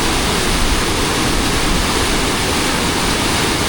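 A flooded river in heavy monsoon rain in Konkan, the torrent rushing as a loud, unbroken roar of churning water close by with no voices.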